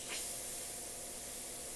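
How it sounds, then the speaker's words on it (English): Paint spray gun releasing a steady, continuous hiss of atomized paint, slightly sputtery as the paint in the cup begins to set up and dry; close and even throughout, with no talk. "I can tell because it's not spraying as lovely as the last one."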